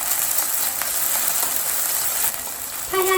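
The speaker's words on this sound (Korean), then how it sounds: "기름이 이제 끓고 있는 것 같아요." Green onions fry in hot cooking oil while a spicy tuna dish is being made; a steady, bright sizzling hiss runs throughout, with a few faint tonal chirps near the end.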